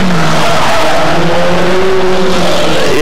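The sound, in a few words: hot-rod race cars screeching tyres around corner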